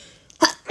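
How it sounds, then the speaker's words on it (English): One person sneezes at close range: a short breathy intake and then a sharp, forceful burst, with no talking. "Sorry, I sneezed."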